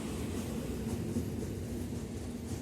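A train rolls across the Bangabandhu (Jamuna) railway bridge at a low speed, a steady, dense rumble with a faint hum running through it, continuous and fairly close, with no voices.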